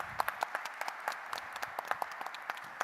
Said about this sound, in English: I'd like to join in a round of applause for our panel.